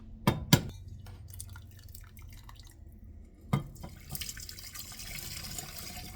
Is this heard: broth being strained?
yes